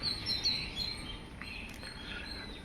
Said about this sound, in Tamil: என்னென்ன குருவினே தெரியாது எல்லாம் வரும் இங்கே சாப்பிட வேண்டியது